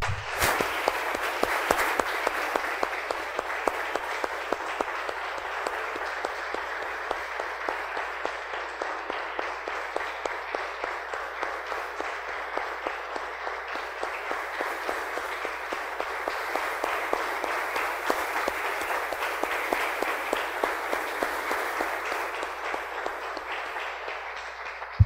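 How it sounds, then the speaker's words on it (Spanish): A church congregation gives a long round of applause to the Lord, a steady dense wash of many hands clapping that holds at an even level for over twenty seconds with no speech. "Damos un aplauso, hermanos, al Señor."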